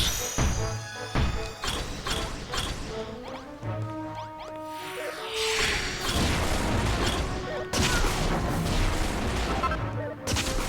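Blocky cannon fire in Dragon Quest Builders, heavy booms and crashing impacts bursting amid busy game music and effects, with a player talking over the action.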